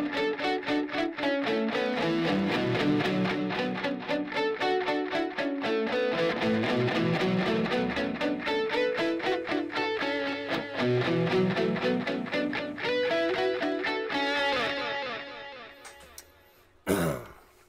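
Distorted electric guitar lead with ping pong delay, playing a dense, continuous run of notes at steady loudness for about fourteen seconds before trailing off into a brief final burst.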